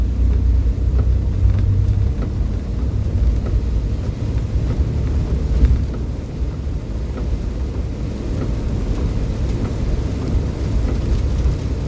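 A Daihatsu turbo van drives along a road, heard from inside the cabin as a steady low engine and road rumble with continuous tire noise and no talking.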